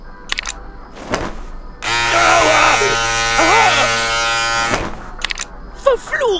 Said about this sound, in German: Gut, dass ich meinen Rasierer noch nicht weggeworfen habe